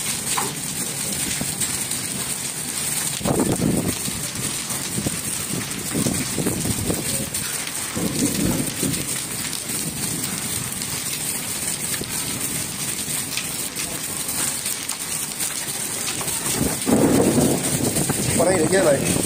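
Heavy rain pours steadily with gusty wind buffeting the microphone, and a few louder broadband surges stand out from the constant wash. People talk over it. Thunder is not clearly picked out.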